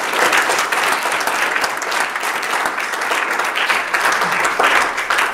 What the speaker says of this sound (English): Would you give Jesus a big round of applause?